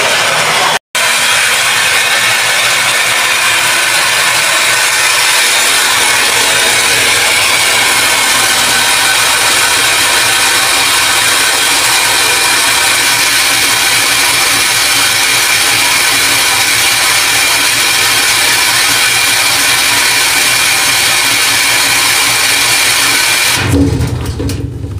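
A household electric water pump motor runs steadily while filling a large pressure tank toward its automatic cutoff, a loud, constant mechanical hum and whine that holds unchanged for over twenty seconds before abruptly stopping.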